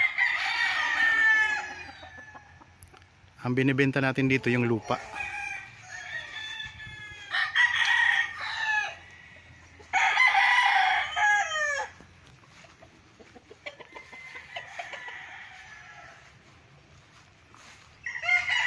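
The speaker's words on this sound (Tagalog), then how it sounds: "So ang gaganda ng mga manok dito." Chickens and roosters on a farm lot in Liliw, Laguna, crow repeatedly in loud, drawn-out calls with clucking between them, while someone talks in the background.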